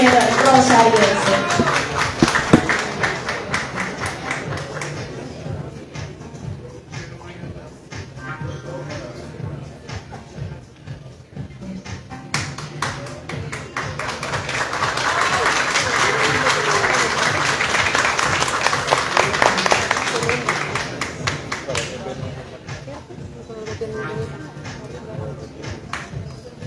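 A crowd claps for a contestant at the Señorita Villa del Rosario pageant casting, with dense applause that swells, fades and then rises again, while an announcer talks over parts of it.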